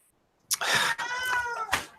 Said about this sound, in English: I'm going to let him out because he keeps meowing.